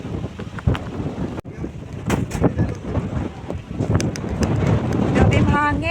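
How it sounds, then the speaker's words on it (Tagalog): Strong gusty wind at Ngong Ping near the Big Buddha in bad weather, buffeting the microphone with loud rumbling blasts that swell and build toward the end, while people talk through it. "Grabe yung hangin. Parang ilipad ka ng hangin."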